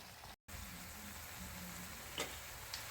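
Sliced potatoes and onions fry in a pan for a Spanish tortilla, giving a steady, quiet sizzle with a brief gap near the start and a couple of faint clicks from the pan later on.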